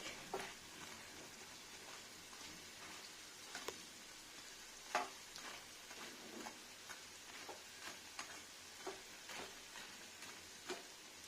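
Urad dal (biri kalai) fritters deep-fry in oil, giving soft, steady sizzling broken by scattered small crackles and pops, faint and without talk.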